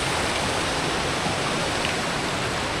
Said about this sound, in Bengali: This is the waterfall.